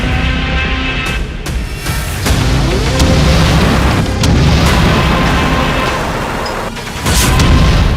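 Bombs exploding during a missile strike on Tehran, Iran's capital, sound as repeated deep booms and crashes over a continuous loud rumble, with sharp blasts near one, four and seven seconds.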